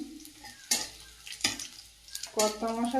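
Bay leaf and panch phoron hit hot oil for a taro (kochu) dal, with a few sharp stirring scrapes and a sudden burst of sizzling near the end, close and fairly quiet, without talking.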